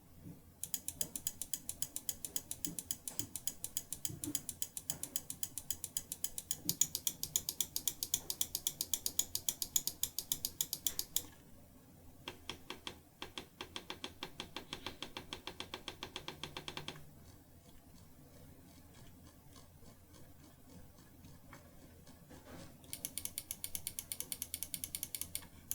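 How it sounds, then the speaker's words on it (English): A Logitech G Pro wireless gaming mouse clicks in fast, dense bursts of sharp close-up taps, with brief pauses between runs and a quieter stretch of slower clicking in the middle. "So let's listen to what the mouse clicks sound like."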